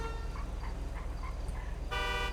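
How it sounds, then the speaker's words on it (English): Car horn honking in a driving video game, a steady toot running under engine drone, with a louder, brighter blast bursting in near the end. "Keep honking it."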